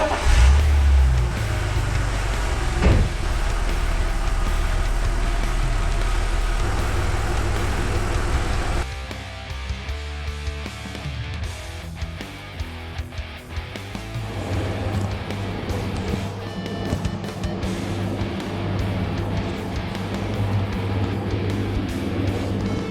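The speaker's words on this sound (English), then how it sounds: "the engine is restarted and left to idle for 12 minutes." A BMW M54B30 inline-six idling after a Liqui-Moly engine flush, in an E21 track car: a steady, low, continuous rumble that stays even throughout, with faint clicks and mechanical ticking over it.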